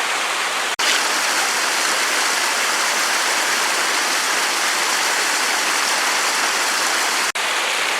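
A forest stream rushes steadily and close by, a continuous, even wash of flowing water that never lets up.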